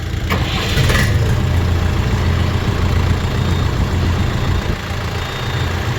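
Diesel tractor engine idling nearby with a steady, low, chugging rumble and a brief clatter near the start, no voices.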